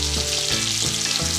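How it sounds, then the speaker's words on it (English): Chicken pieces sizzle and crackle steadily in hot oil in a pot for Cajun-spiced jambalaya, a dense, continuous frying hiss with faint stirring scrapes, close and fairly loud throughout. "Good old chickens are frying."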